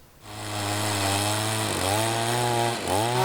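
A chainsaw running on a homemade Alaskan chainsaw mill, a steady loud buzzing drone close by that dips briefly twice as the engine load shifts, with no talking.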